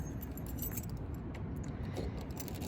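Keys jangle steadily at the door lock of a 1986 Mercury Grand Marquis with its illuminated entry lights on, a close metallic rattle over a dense low rumble and no talk.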